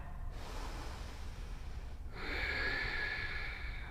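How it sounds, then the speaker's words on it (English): Long, slow breaths during a yoga flow class: a drawn-out airy inhale, a short pause, then a fuller rushing exhale, close and fairly faint. "2 more long inhales, followed by long exhales."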